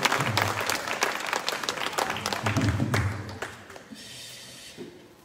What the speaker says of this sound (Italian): Facciamo un applauso al mio corista ufficiale.